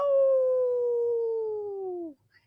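A single long howl from a human voice imitating a coyote, holding a steady falling tone before cutting off abruptly.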